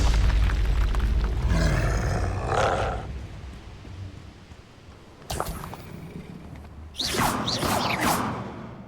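Spell effects from the Hogwarts Legacy video game, including the Expelliarmus disarming charm, burst out as roaring whooshes and booms in several loud surges, with a rumbling swell at the start and two sharp blasts later.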